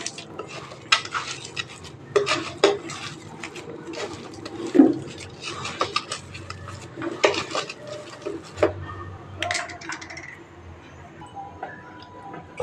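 Boiled egg and potato mashed by hand in a bowl with mustard oil, heard as irregular squelching and soft knocks against the bowl, close and fairly loud, with no talking.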